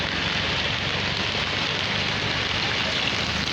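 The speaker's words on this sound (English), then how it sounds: "You can see this is a heavy rain here in Kenya" Heavy rain pours steadily in Kenya during a flooding downpour over a garden, a dense, even hiss that stays constant and loud throughout with no breaks.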